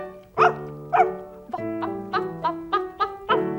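A series of about nine tonal, sing-song barks in steady rhythm, close and clear, like a voice imitating a little dog in a Norwegian children's song from 1970.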